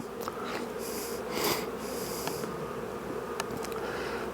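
A steady, low hum of buzzing honeybees at a hive fills the background, with occasional louder passes of individual bees close by.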